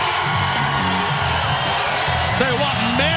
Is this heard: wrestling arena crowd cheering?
yes